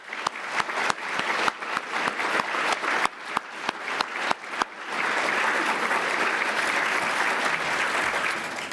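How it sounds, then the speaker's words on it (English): Conference audience applause in a hall: scattered individual claps build for a few seconds, then merge into dense, sustained clapping from a large crowd that carries on to the end. "Can I get a round of applause for all those people?"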